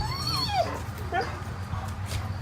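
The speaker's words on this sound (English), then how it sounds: "I heard the dog start barking." A dog whimpers and yips in a few short, high, sliding calls over a steady low background hum, nearby and moderately loud.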